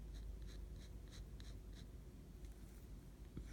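A fine-nib Sheaffer fountain pen drawing on paper, heard as faint close scratchy strokes repeating in short bursts over a low background hum, with no talking.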